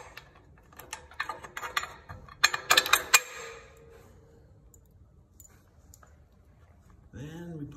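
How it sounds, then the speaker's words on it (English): A pulley goes back onto a gym cable machine with a short burst of metallic clanks and rattles midway, followed by near quiet and a brief voice at the end. "And then he's putting the pulley back in."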